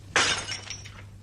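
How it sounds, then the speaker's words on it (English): A priceless object dropped from someone's hands crashes and shatters, a single sharp burst of breaking glass followed by a brief tinkling scatter of pieces, loud and close with no talk. "Wailed Duckula, eyeing the shattered pieces."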